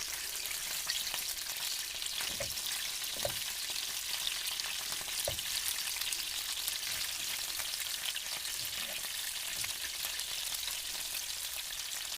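Steady sizzling and crackling of rabbit meat patties frying over medium heat in a hot pan, with a few soft clicks and scrapes, no voices.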